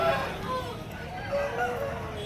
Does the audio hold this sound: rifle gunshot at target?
no